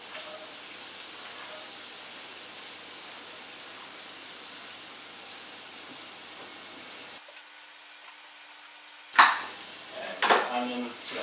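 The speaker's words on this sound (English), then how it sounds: "I'm just frying this up in some olive oil." Onion frying in hot olive oil in a pan, a soft steady sizzle for several seconds, then a quieter stretch followed by a few stirring scrapes and clinks; no talking.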